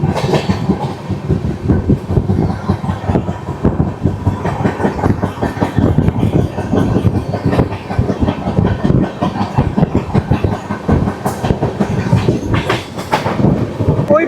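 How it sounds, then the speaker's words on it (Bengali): A passenger train near Sevoke railway station in West Bengal rolls along with a loud, continuous rumble and rhythmic clickety-clack of wheels on the rails, heard close from on board. "তার উপর থেকে আমাদের ট্রেন পাস করছে এই মুহূর্তে"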